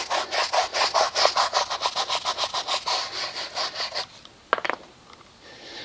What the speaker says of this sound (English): I'm just pulling some of the dirt and grime